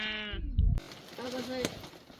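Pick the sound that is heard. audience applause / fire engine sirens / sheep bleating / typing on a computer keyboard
sheep bleating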